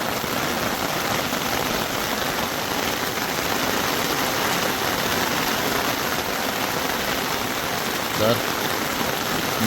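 Heavy rain pours down in a dense, unbroken hiss that stays loud and even throughout.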